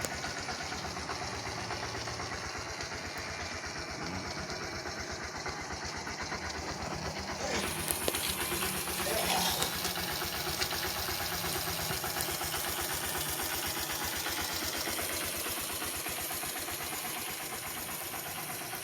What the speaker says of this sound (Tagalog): yung tunog ng kanyang makina ay parang bago.